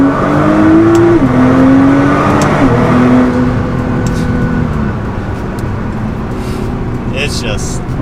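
A stage 2 tuned Nissan GT-R accelerates hard in second gear while merging into highway traffic, its loud engine note climbing steadily in pitch before a shift and continuing as steady cruising drone; a person talks over the engine.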